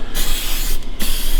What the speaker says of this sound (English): So we just take our aerosol, spray inside that real good.